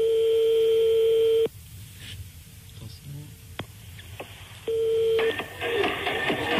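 Telephone line tones on a radio prank call: a loud, steady tone holds for about a second and a half, then cuts to quiet line noise with a few sharp clicks, before the tone briefly returns amid rustling handset noise.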